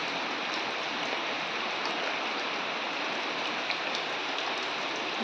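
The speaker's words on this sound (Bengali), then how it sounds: "দেখো কিরকম বৃষ্টি পড়ছে" Heavy rain pours down steadily outside a home during a flood, a dense, even hiss of falling water that keeps up without a break and carries no voices.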